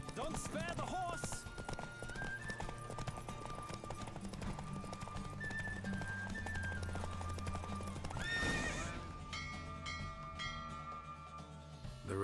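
Horse hooves clip-clop in a fast, continuous gallop during a horse race in The Witcher 3: Wild Hunt, with a whinny and game music and effects layered over the running hoofbeats.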